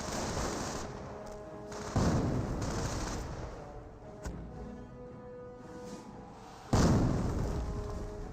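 Gunfire in the video game Company of Heroes 1, with bursts of rifle and machine-gun fire and booming impacts rolling through a noisy battle soundscape, loud swells recurring every few seconds, no voices.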